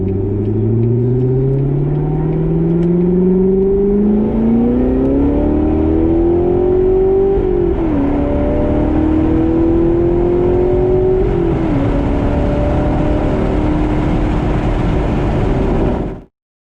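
A C7 Corvette fitted with an AWE aftermarket exhaust revs up loud and close, its deep engine note climbing in pitch, dipping between pulls, then holding a high drone before cutting off abruptly.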